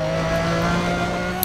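Lamborghini Estoque in Need for Speed World, its engine droning at a steady high pitch with a turbocharger's whine underneath, loud and continuous throughout.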